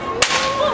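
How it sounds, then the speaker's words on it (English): A street performer's whip cracks once, a sharp loud snap on a busy street in Old Montreal, followed by lingering crowd and street ambience. "C'est un fouet normal. That's a normal whip."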